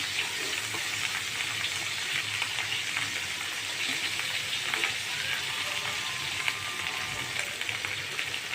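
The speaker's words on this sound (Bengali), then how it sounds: "এখানে আমি এখন ঘি দিয়ে দিতেছি।" Ghee hits a hot pan of sweet rice and sets off a dense, continuous sizzle and crackle. The frying hiss holds steady throughout, close and fairly loud.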